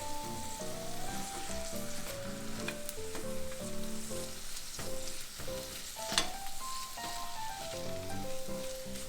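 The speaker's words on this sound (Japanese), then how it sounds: "ハムと椎茸は本当に1分ほど炒めてトマトを入れます。" Ham and shiitake mushrooms stir-fry in a pan, a continuous bright sizzle with spatula scrapes and clinks over a steady background of melodic music.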